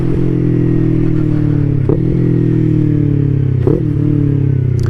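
A 2019 Yamaha R3 streetfighter with an M4 full exhaust holds a loud, steady engine drone while riding, its low rumbling tone shifting slightly, with a couple of brief clattering bumps.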